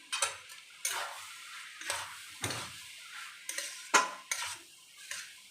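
A vegetarian taro curry is stirred in a pan with a utensil, about six separate scraping strokes at an uneven rhythm, close and fairly soft, with quiet gaps between them.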